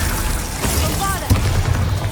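Loud, dense Bombarda explosion spell in the video game Hogwarts Legacy, a continuous booming roar with a sharp burst partway through, close and heavy over the whole moment.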